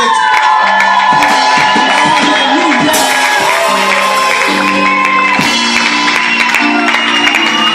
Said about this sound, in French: On va crier pour le roi des rois, on va sauter pour la gloire de l'autre.